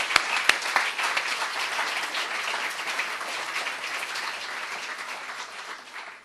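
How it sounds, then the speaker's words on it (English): A room full of people applauds the award nominees at a student awards ceremony, a dense steady wash of clapping that starts with a few sharp claps and carries on evenly, fading slightly near the end. "So I'd like to make a round of applause for everyone."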